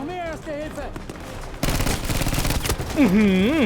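Video game gunfire bursts out as a rapid, dense volley of shots in the middle of the clip, with excited talking and exclamations from players before and after it.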